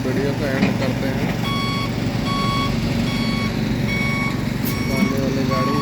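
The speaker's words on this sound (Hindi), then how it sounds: "पानी वाली गाड़ी" A water tanker truck reverses on a road construction site in Riyadh, its beeper sounding in a steady repeating pattern of evenly spaced tones over a continuous loud engine rumble and traffic, with voices faintly in the background.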